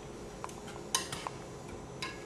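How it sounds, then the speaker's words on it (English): A spoon stirs crawfish tails and jumbo lump crab meat through a beurre blanc in a pan, making a few close, sharp metallic clinks and light scrapes over a quiet kitchen background. "Stir that together."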